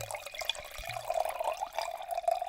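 Wine, a 2016 Vino Nobile di Montepulciano, flowing without pause from a dispenser into a glass, a close, continuous liquid splashing and gurgling that keeps going steadily throughout.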